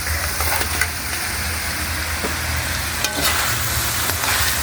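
Pork for binagoongan frying in a hot pan, a steady, fairly quiet sizzle with faint stirring scrapes and occasional pops running throughout.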